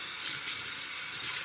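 Water running steadily from a tap to wet hair before brushing it into a natural puff, a continuous hiss of flow heard alone without talk.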